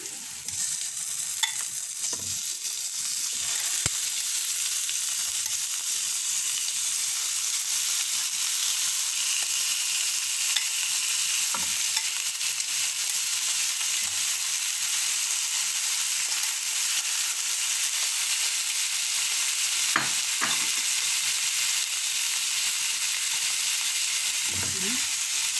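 Pork frying in a pan for pochero, a loud continuous sizzle and hiss with occasional scraping stirs of a utensil, close and steady throughout.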